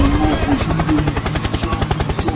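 Helicopter in a Minecraft game, a loud steady rapid rotor chop filling the whole stretch.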